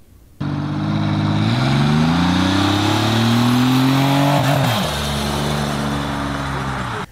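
A turbocharged car engine fitted with a cheap knockoff turbo revs steadily and loud, its pitch climbing as boost builds, dipping briefly, then holding a sustained drone close to the mic.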